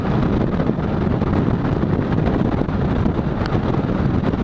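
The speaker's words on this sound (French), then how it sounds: "Entre les turbulences des camions, le vent latéral et la flotte" Loud, constant wind roar buffets the microphone with a dense low rumble, riding a motorcycle at speed on a motorway through crosswind, rain and truck turbulence.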